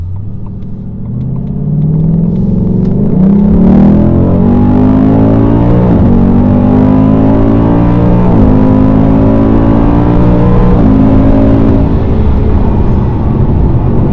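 A 2023 Ford Mustang V8 accelerating hard, its loud deep engine roar climbing steadily through the gears with brief dips at each shift, heard close from inside the car.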